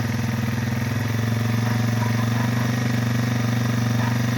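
A Yamaha TW200 motorcycle idles close by with a steady, even low throb that holds unchanged from start to finish.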